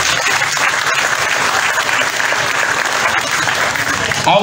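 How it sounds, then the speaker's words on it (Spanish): Loud, dense applause from an audience at a health ministry ceremony in Yapacaní, where the vice minister of health handed out ministerial posts to health workers. The clapping is steady and continuous throughout, with only a brief break near the end. "Lo vamos a celebrar por supuesto con un fuerte aplauso."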